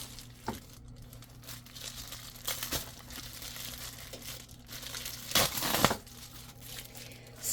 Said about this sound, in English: Okay, I can just tear it.